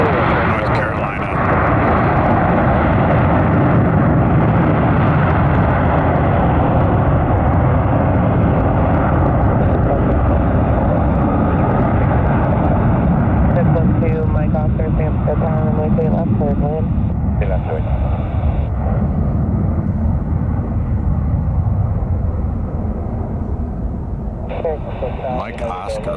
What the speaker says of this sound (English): A321 headed to Charlotte, North Carolina.